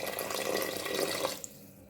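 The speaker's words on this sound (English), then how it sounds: "I'll add more water to top the meat so that it can help it cook till it's almost tender." Water pours from a tap or jug into a pot of meat cooking for Nigerian uziza leaf soup, a steady splashing fill that runs for over a second, then stops with a few faint drips.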